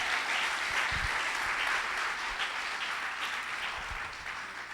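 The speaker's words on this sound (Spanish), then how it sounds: "Dale un fuerte aplauso al Señor en esta hora." Applause from a church congregation during a Sunday service, a steady wash of clapping that holds at an even level for the whole stretch, with faint low thumps beneath.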